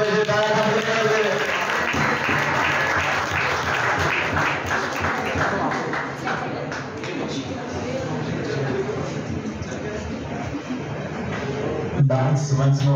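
Loud, continuous applause from an audience for prize winners at a science club event marking Albert Einstein's birthday, with a voice speaking over the clapping and a brief bump of noise near the end.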